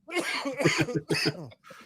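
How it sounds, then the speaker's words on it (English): Several short, raspy coughs in quick succession, close to the microphone, ending with a softer throat-clearing sound. "sorry for the coughing"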